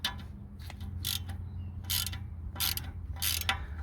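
Brake rotor nut being removed on a Range Rover Sport: repeated bursts of ratcheting clicks, about four short runs, near and fairly loud over a low mechanical hum.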